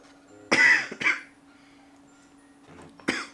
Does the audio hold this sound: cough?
yes